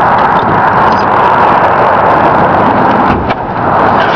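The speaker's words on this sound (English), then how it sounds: "we'll pop that hood for you real quick like and fire it up" A 1979 Pontiac Lemans two-door coupe with a V8 that needs a muffler runs with a loud, steady, close engine roar and a brief dip partway through, with no voices.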